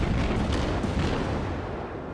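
Warship guns booming in World of Warships, a dense, heavy rumbling blast that fills the whole stretch and fades slightly at the end, loud and close with no voices.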